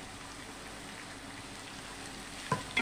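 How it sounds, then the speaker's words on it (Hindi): Onions, green chili and curry leaves fry in hot oil for Maharashtrian jhunka, giving a steady soft sizzle, fairly quiet and close, with a couple of brief clinks near the end and no voices. "अब इसमें हम प्याज डाल देंगे हरी मिर्च करी पत्ता"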